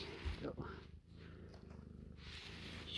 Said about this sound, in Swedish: Spinner.